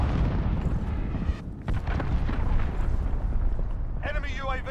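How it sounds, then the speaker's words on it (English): A cruise missile explosion in Call of Duty: Modern Warfare, a heavy rumbling blast that fills the clip with low roaring debris noise, while a radio-style voice speaks near the end. "Enemy cruise missile incoming,"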